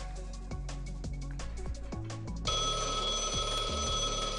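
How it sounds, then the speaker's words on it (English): A phone rings in the video game Blue Archive, an electronic ringtone that starts partway through and keeps going steadily over game music. "A phone call? Now?"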